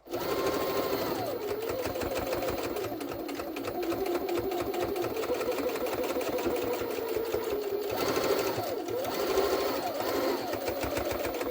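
Jaguar SJ-23 sewing machine stitching fabric pleats with a pleating mechanism, a steady loud rapid mechanical whir with fast needle rhythm running continuously, briefly easing near eight seconds before resuming.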